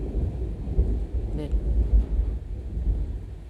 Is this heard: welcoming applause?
no